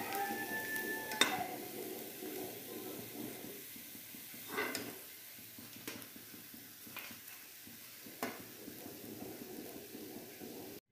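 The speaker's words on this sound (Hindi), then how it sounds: "इसी तरह सभी मछलियों को हम लोग फ्राई कर लेंगे।" Fish fry in a pan of oil for a spicy fish curry, giving a faint continuous hiss with occasional sharper pops and crackles spread across the stretch.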